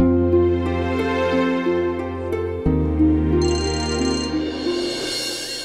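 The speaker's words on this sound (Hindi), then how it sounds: "ये लो अब आया रंजीत भाई का फोन" A melodic phone ringtone plays loudly and steadily, its repeating electronic tones looping without any voices.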